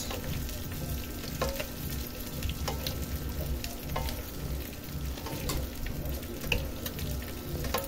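Stir-fried dish with oyster sauce sizzling in a pan while being stirred, a steady hot crackle broken by repeated sharp scrapes and clacks of the utensil against the pan.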